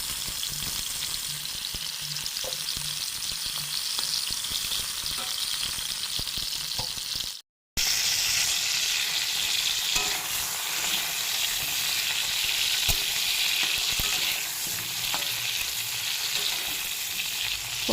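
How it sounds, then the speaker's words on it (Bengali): Pointed gourd frying in hot oil in a wok gives a steady, close sizzle that cuts out for a moment midway, then resumes just as dense. "তেলটা গরম হয়ে গেছে, পটলগুলো ভেজে নেব"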